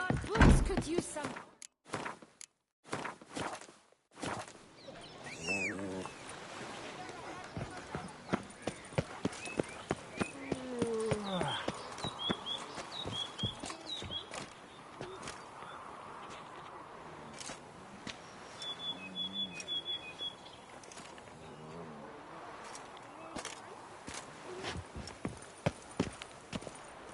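Roach the horse gallops through The Witcher 3, hooves clip-clopping in a steady rhythm for most of the stretch, with game sound effects, faint whinnies and occasional talk over the hoofbeats.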